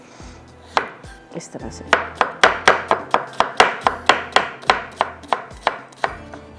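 A knife chops onions into even pieces on a board, about eighteen crisp, evenly spaced strikes up close. A voice speaks briefly near the start.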